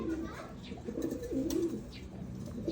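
Free-flight pigeons cooing softly outdoors, a few low throaty coos rising and falling over light background noise, with someone talking over them.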